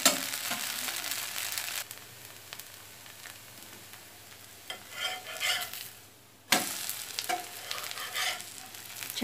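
Oil sizzles under a wheat flour dosa in a hot pan, a steady crackling hiss that swells and fades with spatula scrapes and a brief quieter gap before the frying surges back, no talking.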